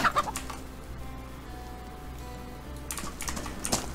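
A chicken in the survival game DayZ clucks in a few short bursts alongside rapid keyboard typing and mouse clicks, fairly close, with no talk.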